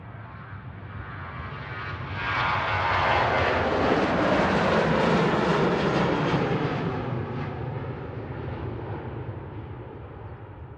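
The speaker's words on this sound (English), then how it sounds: "This aircraft is going over to Venice, operating flight 2898, EIEMM, 13-year-old example" A 13-year-old Boeing 737 jet, registration EI-EMM, operating flight 2898 to Venice, passes over Manchester Airport with its engine roar swelling to a loud broad rush, then slowly fading as it moves away.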